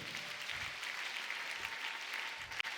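A congregation at a prayer meeting claps together in a steady, fairly faint stream of applause that runs evenly for a few seconds, with one sharp knock near the end.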